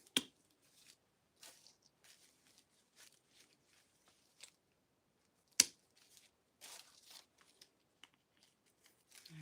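Hydrangea stems are cut for a spring wreath: a few sharp, quiet snips come close and sparse, with soft rustling and handling noises between them.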